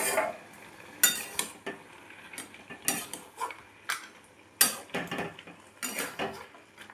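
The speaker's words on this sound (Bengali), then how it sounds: "এবার আমি দিয়ে দেবো বড়ি ভাজাগুলো, দিয়ে ভালো করে নেড়ে নেব।" A spoon scrapes and clatters in a pan as fried bori is stirred into cooked spinach, with irregular sharp metallic knocks and scrapes spaced through the clip, close and fairly quiet with no voices.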